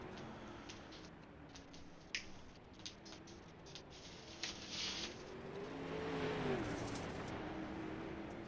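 Sprint car engine in a sim racing game at Williams Grove, a steady low drone with a rising pitch sweep near the end, a few sharp clicks scattered throughout, no talking.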